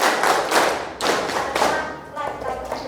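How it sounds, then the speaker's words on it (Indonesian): A group claps hands and slaps thighs at a teachers' retreat, a burst of loud, dense, uneven slaps and claps in a few rhythmic surges. The sound is close and fills the room. "tepuk tangan, tepuk paha, tepuk temannya"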